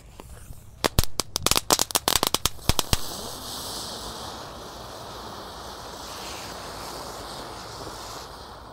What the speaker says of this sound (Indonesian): Gangsingnya menyala bosku